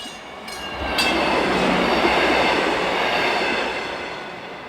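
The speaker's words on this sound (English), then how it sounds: "a northbound deadhead to Hammond Yard to make an appearance heading into South Hammond siding" A South Shore Line train runs without passengers on a northbound deadhead toward Hammond Yard and South Hammond siding on the new Monon corridor. It makes a steady, loud rumble of wheels and cars that swells as it passes close by, then eases slightly, with a brief horn-like tone near the start.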